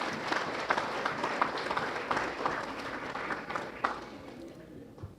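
An audience at a Florida chapter's inaugural ball claps steadily for the chapter, a dense crackle of many hands with a few sharper claps standing out, tapering off toward the end.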